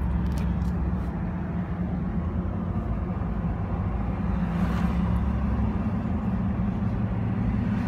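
A Ford F-150 drives along with a steady low engine drone and road rumble, shifting automatically into fifth gear without a sharp break in the even, moderately quiet hum.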